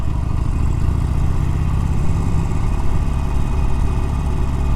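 A Harley-Davidson 48 with a 1200cc V-twin engine rumbles steadily at low pitch, a loud, close, even drone with no voices over it.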